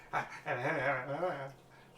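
A dog gives a short whimpering, yelping whine in a quiet indoor setting, two or three closely spaced wavering cries lasting about a second.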